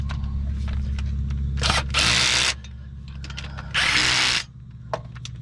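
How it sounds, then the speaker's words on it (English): A cordless drill fitted with a 1/4-inch adapter and a 9/16 socket, clutch on medium, zipping up exhaust manifold bolts on an old RV motorhome: two short whirring bursts over a steady background engine hum, with small clicks between. "I just got my little cordless drill out here. It has a nice 1/4" adapter on it, 9/16 socket on it."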